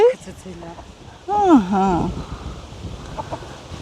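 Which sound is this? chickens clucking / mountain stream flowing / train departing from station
chickens clucking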